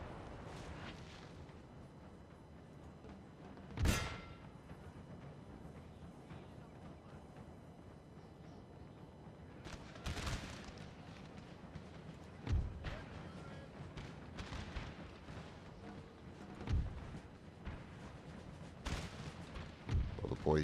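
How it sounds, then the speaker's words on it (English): Cannon artillery fire in Napoleon: Total War, several distant booms spaced a few seconds apart over a low battlefield rumble, with voices in the background. "Look at that, the cannons also going in there as well."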